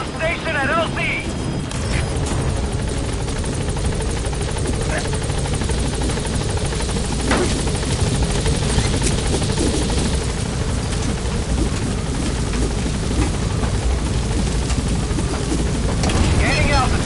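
The B-Quad helicopter arrives at the landing zone in Metal Gear Solid V, a loud continuous rotor roar and engine drone that holds steady throughout.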